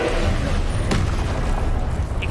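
Confringo blasting spell in Hogwarts Legacy going off amid combat: a loud, booming burst with a sharp crack near the middle over a continuous rumbling low roar, with a faint chime near the end.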